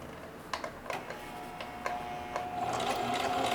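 A sewing machine stitches denim in short, close bursts of rapid ticking, with a few separate clicks before settling into a steadier run near the end; no one speaks.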